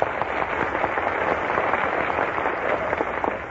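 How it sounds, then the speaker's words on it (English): A studio audience breaks into steady, dense applause on a 1938 radio show, many hands clapping at an even level with no talk over it. "I can make this entire audience applaud with their hands just by making a sound"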